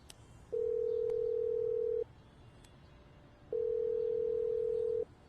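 A phone call rings out through the earpiece with two long, steady electronic tones, each about one and a half seconds, separated by a pause, clear over faint background hiss.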